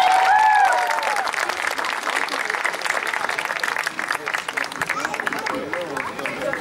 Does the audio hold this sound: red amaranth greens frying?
no